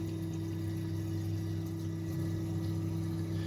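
Red Sea RSK-300 protein skimmer running in an aquarium sump gives a steady low motor hum with faint bubbling water, constant and close throughout.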